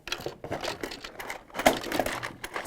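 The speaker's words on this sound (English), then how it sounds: "excuse the noise, I'm just having a rummage round in my box" Small objects clatter and crinkle in irregular bursts as hands rummage through a sewing box, close and fairly quiet.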